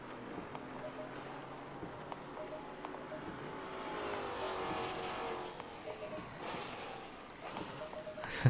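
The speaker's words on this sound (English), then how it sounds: "There's the other Maserati heading through." A Maserati GT4 race car in the racing game Assetto Corsa Competizione at Spa, Watkins Glen or Silverstone, its engine drone swelling as it passes and fading away, set against a steady hum of other cars and track ambience.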